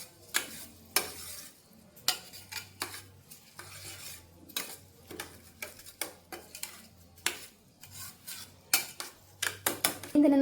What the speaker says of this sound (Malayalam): ഇനി നല്ലവണ്ണം മിക്സ് ചെയ്തെടുക്കുക.